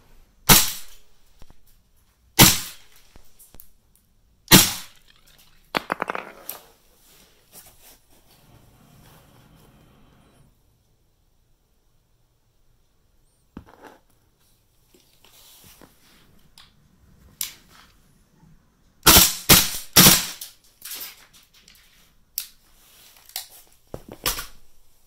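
A gun fires 450 fps rounds at a GoPro roll cage, sharp snapping shots heard singly and in quick clusters with long quiet gaps between, close and without speech.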